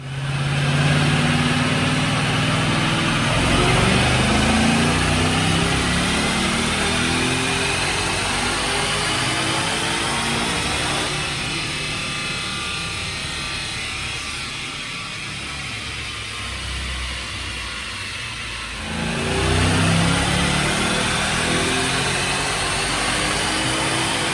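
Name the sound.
2011 Roush supercharged Mustang dyno pull with Brenspeed 650R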